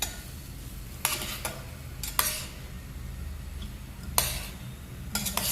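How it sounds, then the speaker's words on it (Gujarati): Cumin rice (jeera rice) being stirred and mixed in a pan, with a few separate bursts of a spoon scraping against the pan over a steady low background hum, no talking. "હવે બધું મિક્સ કરી દેવાનું એટલે થઈ જાય જીરા રાઈસ તો તૈયાર."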